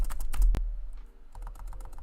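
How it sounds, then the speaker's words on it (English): Rapid, frantic typing on a computer keyboard, close and crisp, a dense run of key clicks with one brief pause, no voices. "there's gonna be like frantic typing ASMR"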